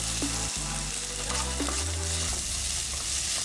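Garlic followed by ginger sizzling in a hot pan for stewed eggplant, a steady close frying hiss with a few stirring scrapes and knocks, no voices.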